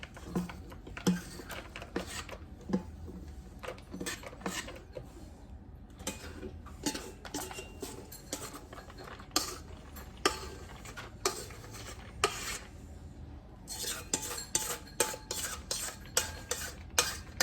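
Quick, busy scraping and clinking of a utensil stirring chocolate cake batter in a bowl, with irregular taps against the sides, close and steady throughout.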